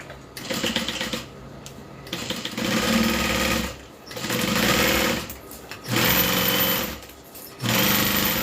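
A sewing machine stitches the top of a bag's interior in loud, close bursts of rapid mechanical whirring, several runs separated by short pauses, with no voices.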